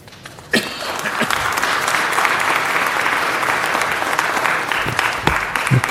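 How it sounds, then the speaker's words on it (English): Crowd applause in a city council chamber during a budget and finance meeting, starting abruptly and sustained as dense, loud clapping to the end with a few sharp individual claps standing out. "the more you clap, the longer you delay the next speaker"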